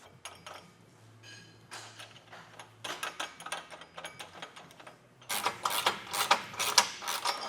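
Nylock nuts are snugged onto carriage bolts while an ARB base rack goes onto a Tacoma, giving quiet clicks and ratcheting taps. The rattling grows busier and louder toward the end.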